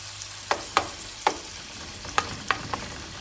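Pieces of chicken or bacon frying in a pan for a rice casserole, a steady sizzle punctuated by several sharp scrapes and clacks as they are stirred and broken apart, close and alone.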